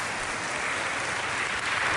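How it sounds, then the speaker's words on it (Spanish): An audience in a hall gives a sustained ovation during a public state address, a continuous roar of many people clapping together without pause. "Ovación por el registro de vándalos e incivilidades."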